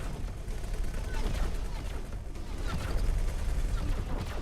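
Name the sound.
positron turret fire in video game X4: Foundations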